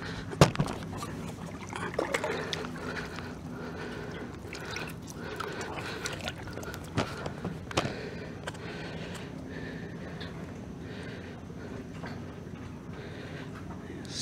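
A flathead catfish is let go into Lake of the Ozarks with a quick splash, followed by soft sloshing and dripping sounds, faint and close by.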